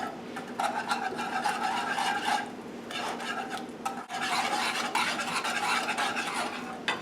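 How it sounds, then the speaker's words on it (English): A whisk beats eggs into buttermilk cornbread batter in a bowl, making quick, rhythmic scraping strokes with a couple of brief pauses, close and fairly quiet. "And then quickly whisk in 2 eggs."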